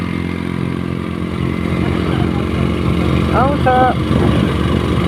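A scooter ridden along a road from Naya Thimi toward Nala, its engine a steady close drone with road rumble while people talk over it.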